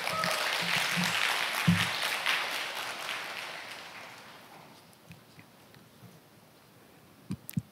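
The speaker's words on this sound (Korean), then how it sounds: "박수로 맞이해 주시기 바랍니다" Audience applause at a lecture event welcoming a speaker, a moderate crowd clapping that is loudest at the start and gradually thins and fades over several seconds, ending with a few scattered claps.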